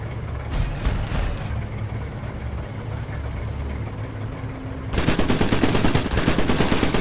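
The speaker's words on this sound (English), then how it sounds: "Now take aim at that fake tube target and blow it away." Rapid automatic gunfire in the Iron Brigade video game, a mech blasting a tube target, breaking in loud and rhythmic partway through after a stretch of low engine-like rumble and hum.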